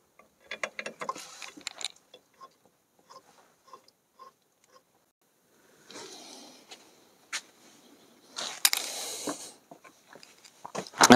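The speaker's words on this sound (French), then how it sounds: "Alors je commence à la clé au cliquet normale et je terminerai en serrant au couple avec la clé dynamométrique" A ratchet wrench tightens brake screws on a Citroën C3 in quick bursts of close, rapid clicking with pauses between them, then a louder stretch of ratcheting and clatter near the end.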